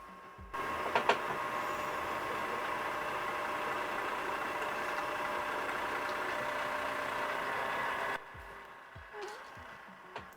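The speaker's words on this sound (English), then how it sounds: "Scanner eject." A film scanner pushing a strip of scanned 35mm film back out, a steady mechanical whir of feed motors that starts abruptly, runs evenly for several seconds, then cuts off, leaving a few soft clicks.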